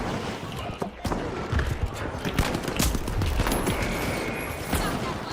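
Gunfire in the video game THE FINALS: rapid bursts of shots crackle in quick succession, some sharp and close, others scattered, over a steady bed of game noise for several seconds.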